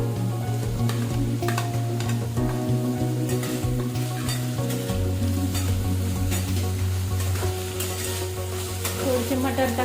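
Green beans and tomato sizzle in a pan with onion for a quick upma breakfast, a steady frying hiss broken by repeated spatula scrapes and clinks, with a tonal background running throughout.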